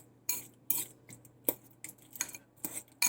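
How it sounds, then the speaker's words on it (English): Avocado mixture is stirred in a bowl with a utensil, giving repeated close scraping and clinking strokes in an irregular rhythm over a faint low hum. "you want to just mix it all together"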